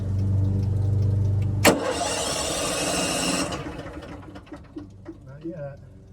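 An RV generator engine cranks with a steady whirring drone, then catches into a loud rough burst of engine noise that settles and fades while it struggles to start, heard close with a voice talking over part of it.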